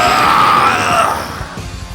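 Yamoshi's blood-curdling scream in an anime fight, a loud, sustained, strained cry that holds high and tense before fading into rumbling impact noise, heard alone without dialogue.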